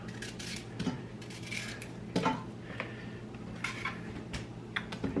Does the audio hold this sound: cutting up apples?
yes